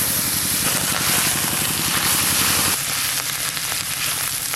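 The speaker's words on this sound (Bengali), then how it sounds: "ওনাতে সর্ষের তেল দেব, গোটা জিরে, শুকনো লঙ্কা, তেজপাতা, হলুদ গুঁড়ো, আদা বাটা" Whole cumin, dried red chilli and bay leaf tempering in hot mustard oil for chana dal, a loud steady sizzle and crackle with a low humming undertone throughout, no voices.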